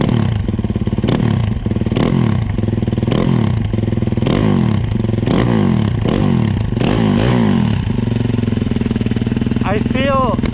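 Yamaha YZ250FX dirt bike engine revving in rhythmic bursts as the throttle is twisted repeatedly, loud and close, each rev rising and falling about once a second, with someone talking over it.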